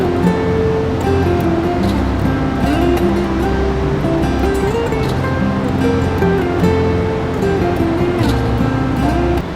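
The Neelam, or Kishanganga, river rushes steadily below a viewpoint near the Teetwal crossing in the Bangas Valley, a loud, continuous broadband roar of flowing water that runs without a break.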